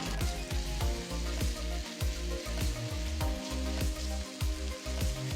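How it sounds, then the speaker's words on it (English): Onions sauteing in a pan to golden brown while a KFC-style chicken dish is cooked, giving a steady, close frying sizzle with regular stirring strokes scraping through it, with no talking. "Saute the onions till they are a nice golden brown color."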